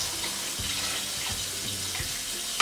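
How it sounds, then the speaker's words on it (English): Water pours steadily into a cooking pot of birria seasoning and beef, a continuous splashing rush close by with a small clunk at the end and no talking. "and then add the water in there,"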